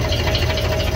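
Steady low rumble of a used tractor engine idling at a tractor market in Shamli, with a constant hum and slight rhythmic throb, close by.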